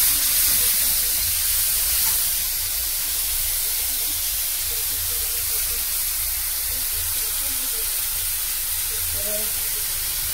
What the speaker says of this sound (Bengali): টমেটোটা পিষে রেখেছি এটা দিয়ে দিচ্ছি